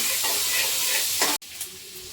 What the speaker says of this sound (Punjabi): ਤੇ ਨਾਲ ਹੀ ਪਾ ਦਵਾਂਗੇ ਪਿਆਜ਼ ਤੇ ਪਿਆਜ਼ ਨੂੰ ਥੋੜਾ ਭੁੰਨਾਂਗੇ